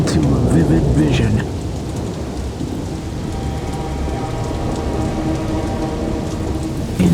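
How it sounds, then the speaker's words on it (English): Thunderstorm with heavy rain, a dense steady downpour drumming close by while thunder rumbles low underneath, with a louder rolling burst at the start before the storm settles into a constant roar. "a terrible storm rages outside"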